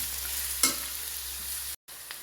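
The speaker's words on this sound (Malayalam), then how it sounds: "സബോളയൊക്കെ നന്നായി വഴന്ന് വന്നിട്ടുണ്ട്." Onions sauté in a pan with a steady, even sizzle and one brief stirring clack. The sound cuts out for a moment, then the frying carries on.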